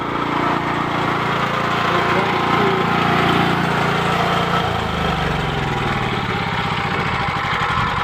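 A generator engine on an off-grid solar setup idles steadily at normal speed while cooling down, a loud continuous drone whose pitch drops and settles about halfway through.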